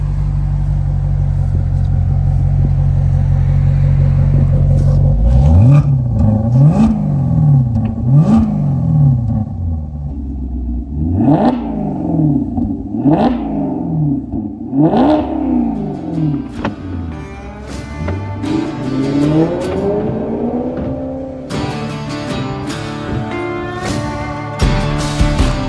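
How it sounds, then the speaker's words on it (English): A 2015 Maserati GranTurismo MC Convertible's 454 hp V8 exhaust revs repeatedly after a steady idle, loud close blips rising and falling in sharp bursts, switching to sport mode with crisper, more aggressive revs near the end. "check that exhaust note out there"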